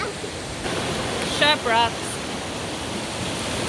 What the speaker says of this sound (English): Pretty fast water. Getting faster actually since we've been here.